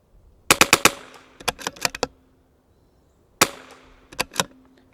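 Rifle shots from a CZ 457 rimfire with a 26-inch Lilja barrel, fired outdoors at a range: a quick string of four sharp cracks, then three more after a pause, then a final cluster of closely spaced reports, loud and with no talking.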